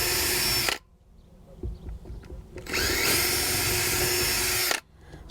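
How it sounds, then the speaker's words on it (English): A power drill bores a 3mm screw hole for a gas strut support on a locker lid, two loud whirring bursts of about two seconds each separated by a quiet pause with faint handling noises. "Now drill the 3mm hole to take the screw."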